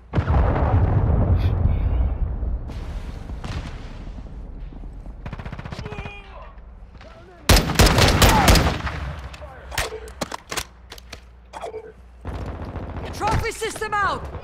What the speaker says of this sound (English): Friendly cruise missile inbound.